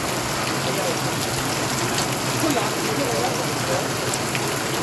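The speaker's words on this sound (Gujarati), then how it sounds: "આજે વરસાદ પડ્યો છે" Steady rain pours on surfaces in Jesar, a dense even hiss of drops that stays constant from start to finish, fairly loud and close.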